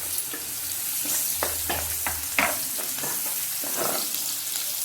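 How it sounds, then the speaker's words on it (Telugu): Sliced onion sizzling in hot oil in a pan for a tofu fry, a steady close frying hiss with several sharp crackles and spoon scrapes spread through it, no voices. "ఇదే ఆయిల్లో ఆనియన్ వేసుకోవాలి."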